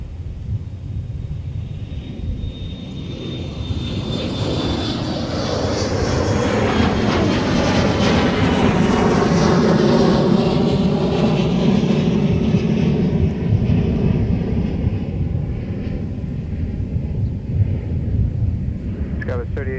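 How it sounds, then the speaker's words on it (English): A SkyWest Airlines jet takes off at Minneapolis–St. Paul airport, its roaring engines swelling to a loud peak mid-clip and then easing into a sustained rumble as it climbs away. "this next one that we have taking off is another SkyWest Airlines flight, 3876, and is heading to Sioux Falls"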